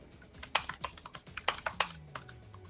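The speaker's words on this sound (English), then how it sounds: "That's you typing." Soft, irregular keyboard clicks tap away at a moderate pace, fairly quiet, with a faint low hum in the background.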